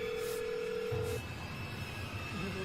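A telephone dialing 911 gives a steady electronic tone for about a second, then short, lower tones follow against a faint hum, with no voices.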